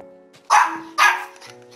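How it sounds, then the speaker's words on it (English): A dog barks twice indoors, two sharp, loud barks about half a second apart over a faint background hum. "I really don't mean for Stitch to be barking when you come here."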